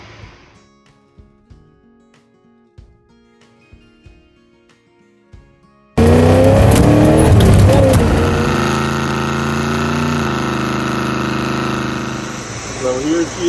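A 1979 Pontiac Firebird engine starts abruptly after a stretch of quiet tapping and clicks, then roars loud and close, settling into a steady, rough idle with a slight surge at the end.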